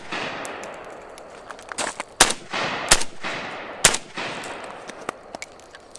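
Rifle shots from a PSA AK ring out in a loose string of several sharp, loud cracks, spaced unevenly over a few seconds, each with a short echoing tail above steady background hiss.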